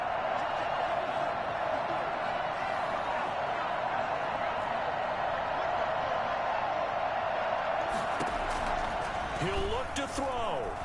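A football stadium crowd roars steadily and loudly as it rises and cheers, with a commentator's voice running over the continuous noise.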